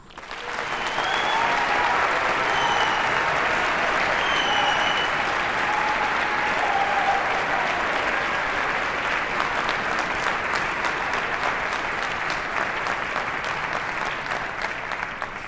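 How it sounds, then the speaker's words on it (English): A concert audience at an all-state wind symphony gives sustained, even applause for percussion students, a dense wash of clapping that holds steady for the full stretch and eases slightly at the end. "Please give them a round of applause."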